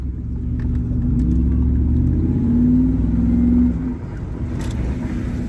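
A supercharged Jaguar engine revs up under load, a deep, loud rumble that swells steadily for a few seconds, peaks, then drops back to a lower idle-like drone.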